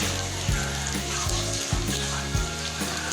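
Shaped, chopped food seasoned with salt and red chili fries in hot oil, giving a steady, loud sizzle with a few deeper bumps and stirring sounds through it.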